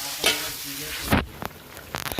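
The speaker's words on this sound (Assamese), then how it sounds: "মাংস আৰু কোমোৰা ফ্ৰাই কৰি আছোঁ" Duck meat and pumpkin sizzle in hot oil while a utensil scrapes and stirs the pan in a few quick strokes, close and fairly loud.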